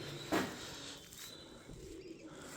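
Pigeons coo softly at the old Bhangarh fort in Rajasthan, a faint low murmur in an open outdoor space, with one sharper brief flutter or call near the start.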